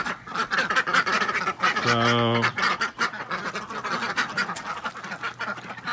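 Ducks at a pond quacking excitedly while being fed, a dense chorus of overlapping quacks and honks close by with one long drawn-out call in the middle, and someone speaking briefly over it.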